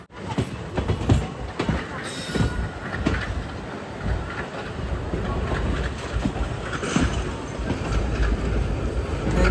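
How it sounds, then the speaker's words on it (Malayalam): An express train running from Palakkad toward Tiruchendur rolls on toward Tirunelveli Junction, giving a steady, close rumble of rails and carriages with faint clatter throughout. "ട്രെയിനിപ്പോൾ തിരുനെൽവേലി ജംഗ്ഷനിലേക്ക് എത്തുകയാണ്."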